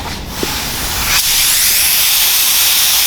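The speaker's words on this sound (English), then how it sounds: "We always do a test spray out here to see how our fan rolls." Paint spray gun test-spraying primer while repairing a crashed Honda Odyssey, a steady loud airy hiss that swells after a brief sputter and holds without pause.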